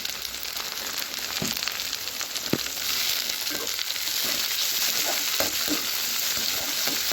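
Chopped tomato sautéing with onions in a pan gives a steady, close sizzle with a few sharp stirring knocks and scrapes scattered through it, and no voices.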